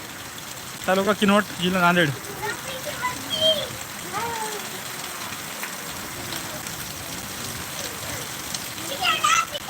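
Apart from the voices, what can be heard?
heavy rain in Kinwat, Nanded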